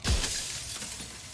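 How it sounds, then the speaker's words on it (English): Mirror glass cracks and shatters in the Slay the Princess video game, one sharp loud burst followed by a brief fading crackle. "A crack slides down the center of the mirror, splitting the image in the glass in two."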